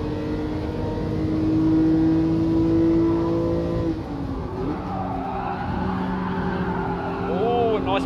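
Race car in Gran Turismo Sport on PS4 sliding onto the curb, a steady engine drone that shifts as the car slides, with brief tire squeal near the end and a voice talking over it.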